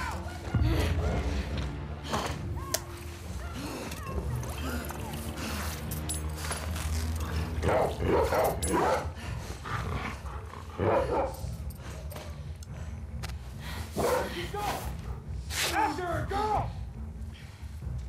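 A dog barks and yelps in The Last of Us Part 2, buried in a dense, continuous game soundscape with voices over it.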